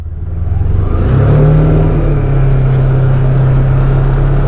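A 2020 Polaris Ranger 1000 EPS utility vehicle starts up and its engine revs loud and close, then settles into a strong, steady drone.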